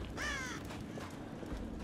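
Crows caw in the horror video game Dead by Daylight: two raspy calls, the first clearer and stronger, over a steady game ambience.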